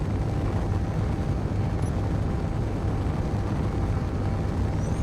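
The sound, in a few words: missile in video game Space Engineers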